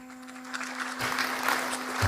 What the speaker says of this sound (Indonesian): kita berikan tepuk tangan yang meriah beliau